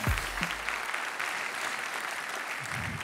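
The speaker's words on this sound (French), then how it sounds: "Vous pouvez l'applaudir." Audience at a blockchain conference talk clapping steadily for an incoming presenter, a moderately loud continuous patter of many hands with brief low thumps at the start.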